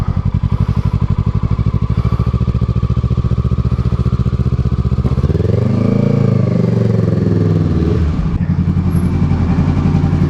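A motorcycle is ridden in first gear up into the bed of a pickup truck. Its engine chugs loudly and steadily close by, swells into a sustained rev partway through, then drops back to a rough idle, with no talk.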